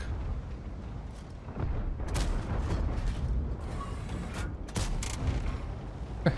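Tank gun shots in the World of Tanks video game, several loud booming blasts and mechanical clanks over a rumbling battle background, with sharp reports standing out near the end.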